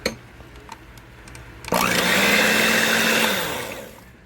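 An electric hand mixer whirs into action beating eggs and milk for an old-fashioned Guyanese sponge cake, a loud close steady whine that starts abruptly after a few soft kitchen clicks and then tapers off.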